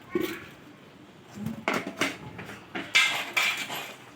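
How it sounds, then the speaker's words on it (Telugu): A spoon scraping and clinking against a pot while goat head curry is stirred, a series of uneven metallic knocks and scrapes at close range with pauses between strokes. "వేసుకున్న తర్వాత బాగా కలుపుకోవాలి"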